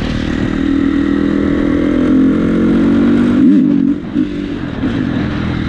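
A motorcycle engine rides close and loud with a steady mid-pitched drone, rising into a brief rev near the middle before settling back to a lower, even run.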